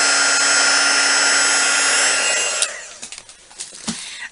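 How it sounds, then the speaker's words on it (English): A heat gun blows hot air in a loud, steady rush for a couple of seconds close to the mic, then shuts off, leaving a few scattered clicks and knocks. "heat gun on again and see how this one turns out"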